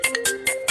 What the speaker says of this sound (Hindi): लक्ष्मण, कोई आपको फोन कर रहा है।